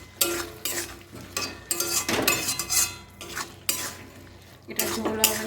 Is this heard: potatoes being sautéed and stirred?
yes